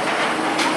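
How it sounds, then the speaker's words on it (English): Medusa roller coaster train at Six Flags Discovery Kingdom on its last run of the night, a steady loud rushing roar of wheels on track with a broad, sustained rumble throughout. "Morgan is on this train, last train of the night. At Six Flags Discovery Kingdom"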